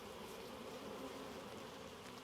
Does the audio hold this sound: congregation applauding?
no